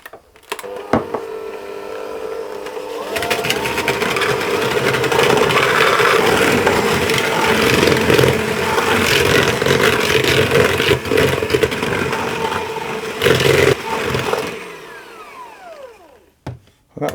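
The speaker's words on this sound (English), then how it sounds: "I'm going to whisk that until it's light and fluffy" A close, loud electric mixer whisks soft butter until light and fluffy, running as a steady whirring drone for about ten seconds, then stopping, with clicks before and after.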